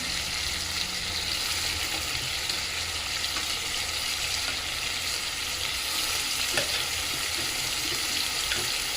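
Potatoes going into a frying pan with ridge gourd and shrimp, a continuous close sizzle and hiss of frying with faint stirring and occasional clinks, no voices.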